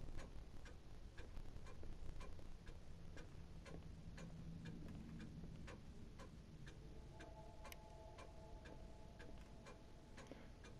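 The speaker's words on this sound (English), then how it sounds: "That's a good clock that you can hear through different floors." A clock ticks on the floor above, a faint, regular tick-tock muffled by the floors and heard against a low room hum, with no speech.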